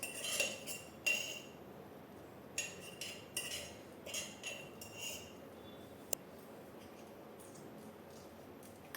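A spoon clinks and scrapes against a dish while Ugadi pachadi, a neem-flower festival chutney, is transferred into a bowl, giving a series of light, irregular metallic taps close by in a quiet room.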